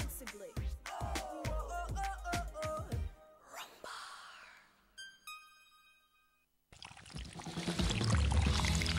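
Coca-Cola poured in an advert, a sudden loud, sustained hiss of fizzing bubbles over the last couple of seconds, following a stretch of music and softer watery swirls.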